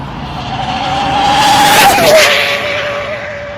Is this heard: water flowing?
no